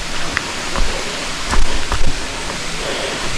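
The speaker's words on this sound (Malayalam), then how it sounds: "ഇങ്ങനെ വെള്ളം ഒഴുകുന്നുണ്ട് കേട്ടോ" Water rushes steadily along a stream beside a homestay near Kuttikkanam, a loud, close and continuous wash with no voices.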